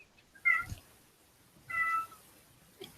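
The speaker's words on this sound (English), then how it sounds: "Your cat is loud." A house cat meows loudly twice, close by, with a fainter third call near the end; the room is otherwise quiet.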